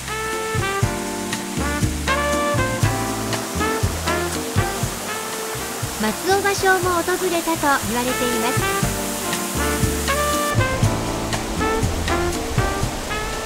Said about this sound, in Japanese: 龍門の滝です。